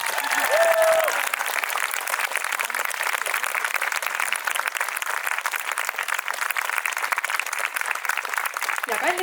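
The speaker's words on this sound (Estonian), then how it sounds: "teeme neile ühe suure aplausi" Big round of applause from a concert audience at a school dance show, dense and steady clapping sustained throughout, loud and close, with a spoken voice briefly near the start.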